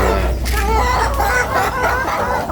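Laying hens cluck steadily at feeding time on a poultry farm, with overlapping calls from a close flock continuing throughout.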